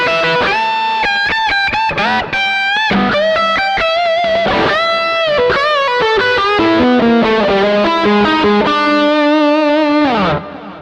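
An overdriven electric guitar solo with reverb and delay, played through a rig of PRS, Mesa Boogie and Fender gear, runs loud and continuous as fast melodic lines and sustained bends, ending on a held note.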